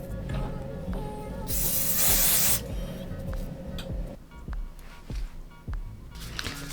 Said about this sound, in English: melting spray.